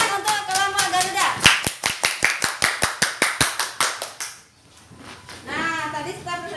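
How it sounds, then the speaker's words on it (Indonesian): A classroom of students claps in unison for a presenting group, a fast, rhythmic series of sharp synchronized claps that stops abruptly, followed by faint children's voices. "Tepuk tangan untuk kelompok Garuda."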